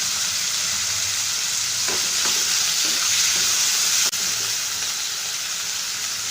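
Chicken and green chillies stir-fry in a pan with a loud, steady sizzle close by, a few soft stirring scrapes in the middle and one sharp knock near the end.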